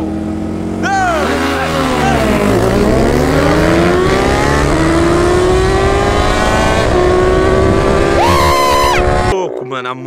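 Several motorcycles, among them a Honda Hornet, accelerate hard away from a traffic light, their engines rising steadily in pitch as they rev through the gears. The roar is loud and close and runs almost continuously, and people are talking under it.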